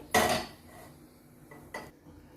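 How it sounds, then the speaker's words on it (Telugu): A metal pressure cooker set down on a kitchen stove, heard as two clanking metallic knocks about a second and a half apart, the first louder, in a quiet room. "నేను కుక్కర్లో చేస్తున్నాను కుక్కర్ పెట్టుకోవాలి"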